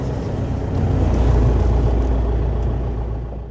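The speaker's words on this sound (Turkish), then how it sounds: "Arabanın yönünü bu tarafa doğru çevireyim." A car towing a caravan maneuvers to park beside a forest stream, its low engine rumble steady and fairly loud throughout with no other sounds.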